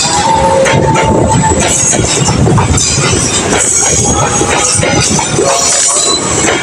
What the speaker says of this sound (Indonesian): Menggunakan lokomotif CC201, kereta api lokal Bandung Raya masuk Stasiun Cicalengka.